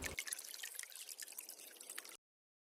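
Water is poured into a pot of pepper rasam, a quiet, steady trickle lasting about two seconds before cutting off.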